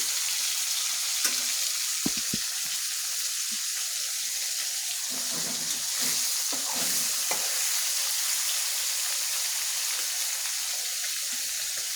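Fish frying crisp in a pan gives a loud, continuous, close sizzle, broken by a few brief clinks and scrapes of a utensil partway through.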